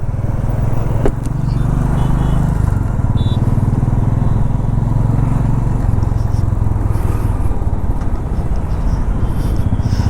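Heavy road traffic with motorcycles on a busy street near a Shiva temple, on the road to Shirdi: a steady, loud, close rumble of engines with no pauses, and one brief sharp knock early on.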